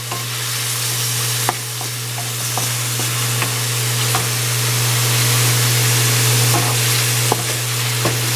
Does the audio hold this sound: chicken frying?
yes